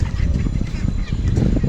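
Native ducks calling from a short distance: a loud burst of repeated honking quacks that overlap in an uneven rhythm, with no clear talking.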